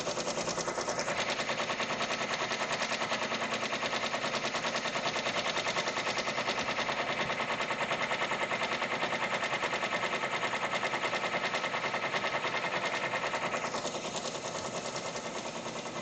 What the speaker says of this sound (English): It says the stitch out takes 34 minutes and we are in like minute number 3 of its stitching.